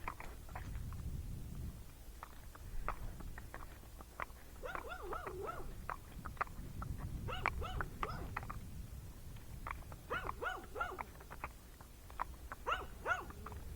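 A dog guarding its house barks repeatedly in short bursts at moderate distance, with occasional whining yelps, over a low rumbling background.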